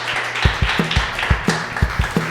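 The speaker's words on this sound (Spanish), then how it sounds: "Damos una ofrenda de aplausos al Señor." A group in a Spanish-language church service claps for the Lord in a quick, steady rhythm. The sharp, close handclaps come together in regular beats over a warm, reverberant room.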